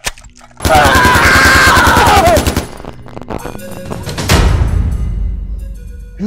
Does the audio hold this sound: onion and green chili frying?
no